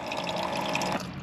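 Water streaming out of a homemade water bottle setup, a steady, close rush of flowing liquid lasting about a second.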